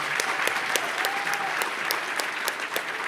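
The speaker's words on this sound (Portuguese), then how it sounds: "peço uma salva de palmas aqui para o Marcelo" An audience applauds at the close of a lecture on large language models, a dense clatter of hands with a few sharper individual claps standing out, sustained and fairly close.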